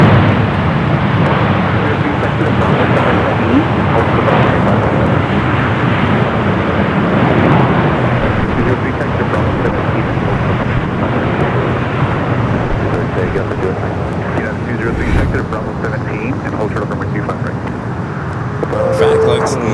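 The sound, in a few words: Boeing 777-200ER airliner arriving at LAX from JFK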